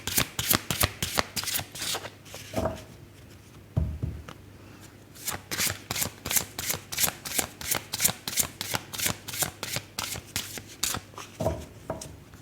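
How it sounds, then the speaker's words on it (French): A deck of fairy oracle cards is shuffled close up, producing rapid, crisp riffles and soft slaps in repeated bursts with short pauses between, quiet and with no talking. "on va tirer quelques cartes supplémentaires pour l'oracle des fées"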